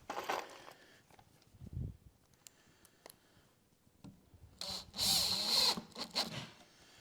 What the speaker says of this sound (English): now I can screw a 2x4 onto there